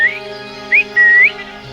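Rose-ringed parakeets give shrill whistled calls, two short and one longer rising note, over a steady hum of background noise.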